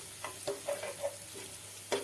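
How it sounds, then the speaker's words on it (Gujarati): Grated ginger and green chillies sauté in a hot pan while a spoon scrapes and stirs, giving a soft steady sizzle broken by several short stirring clicks. "હવે આપણે અડધી ચમચી જેટલું આદુને ખમણીને લીધું છે, તો તેને પણ નાખી દેશું અને તેને પણ થોડી વાર માટે સાતળી લેશું"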